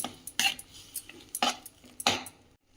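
A metal spoon stirs dal with fenugreek leaves in a pot, giving three or four clinking, scraping strokes against the pot at an uneven pace, close and moderately quiet, with no talking.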